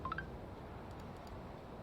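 A phone notification chimes as three quick, faint rising beeps right at the start, followed by low steady background hum with no talking.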